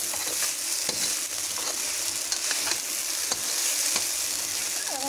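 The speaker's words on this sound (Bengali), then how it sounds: "তো এবার আমি ভালো করে নেড়ে দেবো।" Chira (flattened rice) biryani being stirred in a hot pan, a continuous sizzle broken by repeated scraping stirs, close and fairly loud, with no talk.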